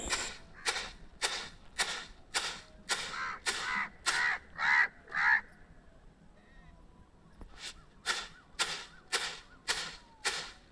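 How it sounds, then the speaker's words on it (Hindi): Crows caw around wheat scattered on the ground outdoors, loud harsh calls in a steady rhythmic series, a short pause, then another run of caws, close by and with no talk. "सारे पक्षी कौवे जो है ना वो बैठे हुए हैं और वहाँ पे काँव काँव कर रहे हैं"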